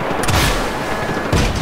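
Gunshots in Just Cause 3, two close, loud bursts of fire separated by about a second, set against dense continuous battle noise.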